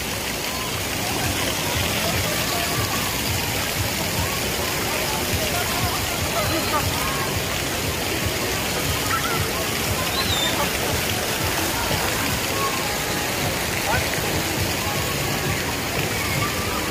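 Water flows and splashes continuously at a Soak City water park in a broad, steady rush with no pauses. Faint voices can be heard in the background.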